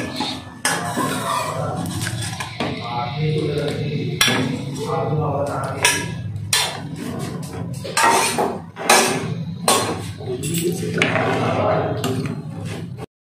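A spoon or ladle scrapes and clanks against a metal pot while kheer is stirred into thickening payesh, repeated knocks and scrapes at close range, fairly loud, with someone talking over the clatter.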